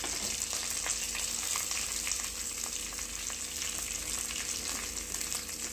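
A handful of garlic sautéing in a pan for banana stem masala, giving a steady, close sizzle and crackle with faint stirring throughout, no voices.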